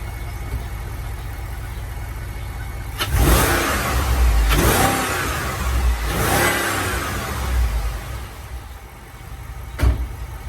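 A BMW N62 B44 V8 engine in a 2004 BMW X5 (E53) cranks and fires, then revs in strong bursts before settling to a steady idle, with a sharp blip near the end.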